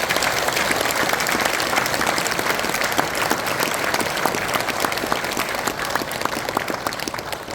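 Sustained applause from an audience at a Buddhist teachers' association anniversary dharma assembly, dense steady clapping throughout with no pauses, fairly loud and close.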